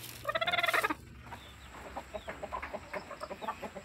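Hens in a backyard coop cluck in a quick, loud burst of rhythmic calls, then settle into a run of softer, evenly spaced clucks close by.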